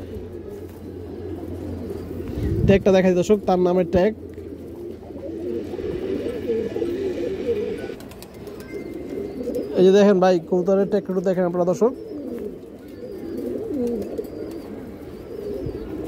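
Pigeons in a pigeon loft coo in repeated throaty rolls, two clear bursts standing out over steady murmuring from other birds, while someone talks nearby.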